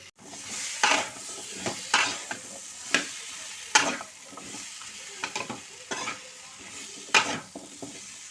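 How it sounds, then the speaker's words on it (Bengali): Pumpkin pieces stir-fried in a pan for a Bengali winter dish, with a steady sizzle broken by roughly eight sharp, close scraping stirs at regular intervals, no voices. "এবার কুমড়োগুলো দিয়ে দিলাম"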